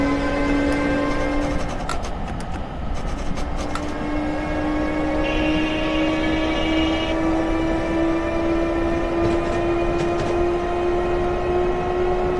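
A train accelerating in a modded train video game, a steady loud engine drone with a rising tone, joined by brief horn-like blasts and clanking early on.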